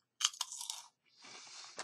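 Korean crab and honey snacks crunched up close in two separate bursts of crisp, dry bites and chewing, with a short pause between them and no talking.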